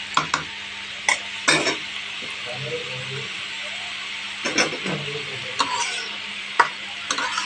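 Chopped banana stem tossed with turmeric and salt in a pan, stirred in scattered bursts of scraping and clicking spatula strokes over a faint background hum.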